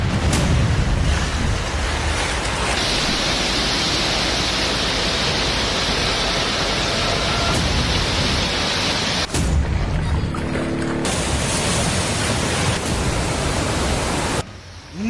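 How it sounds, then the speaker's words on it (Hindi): Swollen floodwater and a waterfall rush with a loud, steady, broadband roar that fills the scene, with brief dips and breaks near the end. "नदियों की उफनती लहरें, झरने का तेज बहाव"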